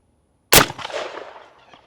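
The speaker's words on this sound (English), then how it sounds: "308 against our hardened steel lock here." A single sharp, loud .308 rifle shot from an FN SCAR fired at a hardened steel lock, with a sudden blast after a moment of silence that decays into a reverberant tail over about a second.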